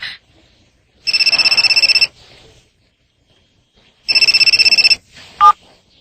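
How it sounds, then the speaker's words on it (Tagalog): A cellphone ringtone in a Tagalog-dubbed Hunter x Hunter anime rings in two loud, bright, pulsing bursts separated by a pause, followed by a short electronic chirp. "Ang cellphone ng pinuno."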